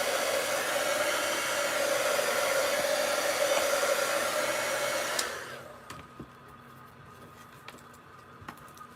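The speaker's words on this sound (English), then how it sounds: "just hit them with the heat tool and they kind of shrivel up and go away" A heat tool blows on leftover glue strings, a steady, close, hissing rush of air for about five seconds before it cuts off, leaving near silence.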